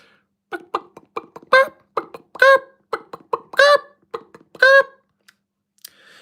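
A voice imitates a chicken: a run of short clucks building into several loud, drawn-out squawking bawks, repeated rhythmically, close and alone.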